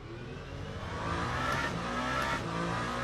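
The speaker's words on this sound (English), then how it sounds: "the raw engine sound is still largely the same" Race car engine in the Le Mans Ultimate sim racing game, a steady droning roar that swells as the car accelerates, heard alone without talk.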